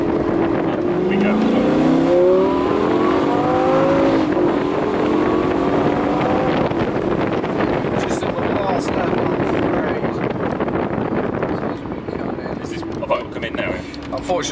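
A McLaren 570S sports car driven fast on a track, a loud engine roar with rising and falling revs and heavy wind noise, captured from inside the car with voices over it.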